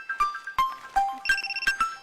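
A mobile phone ringtone in a Balochi drama, a repeating electronic melody of bright tonal beeps with a few rhythmic pulses, loud and close with no talking over it.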